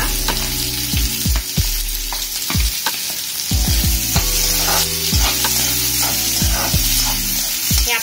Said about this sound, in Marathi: हे आपल्याला स्टीर फ्राय करून घ्यायचंय फटाफट